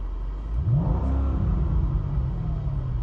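A stock Mercedes car engine revs up quickly, its pitch rising against a 4,000 rpm rev limiter, then settles into a loud, steady rumbling idle close by.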